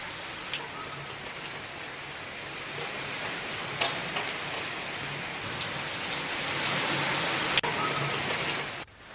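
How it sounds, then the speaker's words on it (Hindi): Heavy morning downpour in Patna, Bihar, a steady dense hiss of rain drumming on surfaces throughout, with scattered sharper drop hits and no voices. "आप देखिए, सुबह से ही पटना में झमाझम बारिश हो रही है।"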